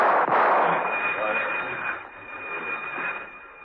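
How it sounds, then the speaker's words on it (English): An audio-drama effect of warning gunshots fired down a passageway. A sharp burst opens the clip, then a long ringing reverberant tail and a steady high tone fade out slowly. "whipped off a few warning shots and raced to the next corridor"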